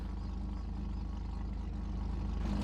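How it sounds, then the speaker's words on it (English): A car's engine idling in GTA Online, a steady low rumbling exhaust note that holds even and continuous throughout, close and moderately loud, with no voices. "the exhaust note is just so nice in this car when it's idling"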